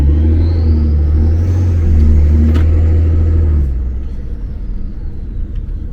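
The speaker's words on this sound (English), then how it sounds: "This is a 2013 E70 X5 with a M57 turbo diesel. And the reason it's loud is because it's already modded." A modified 2013 BMW E70 X5 with an M57 turbo diesel idles loudly with a deep, steady rumble, rises briefly in a rev, then settles back down near the microphone, with no talking.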